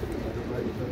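Pigeons at a large pigeon farm coo softly in a low, murmuring stretch, a faint, continuous burble of several birds close by.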